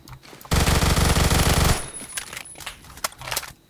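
Sustained burst of rapid automatic gunfire in the Phantom Forces video game, loud and close for over a second, followed by scattered sharper shots and battle noise.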